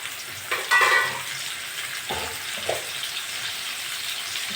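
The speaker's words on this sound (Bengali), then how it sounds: "ওই তেলে আমি পটলগুলো ভেজে নেব।" Pointed gourd (potol) pieces going into hot oil left over from frying potatoes, a close hiss and crackle that flares briefly, then settles into a softer steady sizzle with a few stirring knocks.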